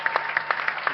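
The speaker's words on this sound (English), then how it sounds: "How about a nice round of applause?" Audience applause welcoming last year's winner, Greg Murphy, at a Bathurst motor racing event, a short burst of sparse, distinct claps at moderate level.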